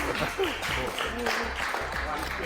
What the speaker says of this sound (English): I think we should give a big round of applause for Heston for coming in